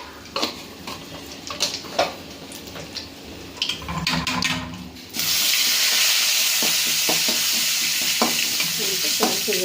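Chillies, curry leaves and asafoetida sizzle in hot oil while being stirred for a rasam tempering, with clinks of a spoon, then a loud, steady crackling fry takes over midway and continues to the end.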